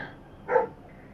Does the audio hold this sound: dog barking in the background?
yes